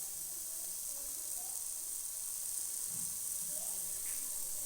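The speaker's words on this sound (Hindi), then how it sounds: "आंच मैंने जला लिया, चिकन इसमें डाल देंगे।" Soft, continuous hiss of chicken cooking in a hot pan without oil, steady and faint throughout with no talk.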